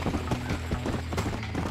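Horse hooves clip-clop at a steady trot in Red Dead Redemption, loud and close over a dense rumbling background.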